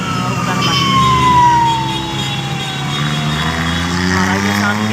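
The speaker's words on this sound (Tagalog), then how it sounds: "Ambulansya po." An ambulance siren sweeps through a tunnel road during a motorcycle ride, its wailing tone gliding downward and repeating over loud, steady engine and wind rumble.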